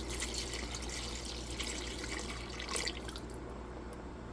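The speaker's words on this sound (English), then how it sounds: "I'm gonna add 4 cups of water" Water pours steadily from a cup into a pot of chicken gnocchi soup in a kitchen, a continuous splashing trickle with faint droplet detail, quiet and close, fading slightly toward the end.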